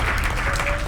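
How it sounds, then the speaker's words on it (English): Applause from a live comedy show audience, a brief loud burst of clapping that fills the whole moment. "Thank you for applauding."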